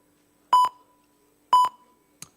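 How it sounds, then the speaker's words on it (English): Two pairs of electronic beeps from an auction countdown timer at a badminton league player auction, spaced about a second apart, followed by a faint short blip; clear and close with no talk. "Timer's ticking."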